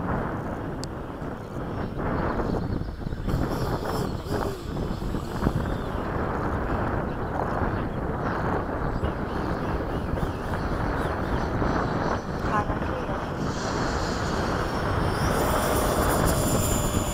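A Piaggio Avanti turboprop aircraft taking off, a steady broad engine roar that holds strong throughout with some wind buffeting on the microphone, loud and fairly close, no voices.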